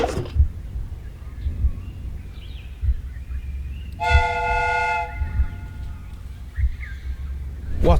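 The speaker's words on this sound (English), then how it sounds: "The steam whistle is ready to be used." A steam whistle sounds in a Sherlock Holmes video game with a train replica, one loud, sustained chord-like blast lasting about a second over a low rumble and clunky background noise.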